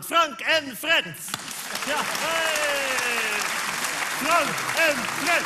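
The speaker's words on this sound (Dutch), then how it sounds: "mag ik een groot applaus voor de gasten van vanavond" A studio audience on a Dutch TV comedy show claps loudly for the evening's guests, a sustained wash of applause under a host who calls out excitedly over it.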